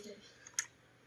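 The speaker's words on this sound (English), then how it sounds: "Now I click F10 in the keyboard to save." A single F10 key pressed on a computer keyboard gives one crisp, brief click in a quiet room.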